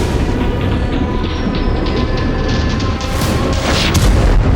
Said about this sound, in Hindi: कुर्स्क के ये धमाके